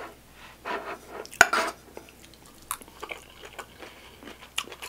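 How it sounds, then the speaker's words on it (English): Someone bites and chews crunchy cabbage from a Filipino dish at a restaurant, with a few sharp crunches and softer chewing over quiet background clatter. "Cabbage adds a nice crunch to it."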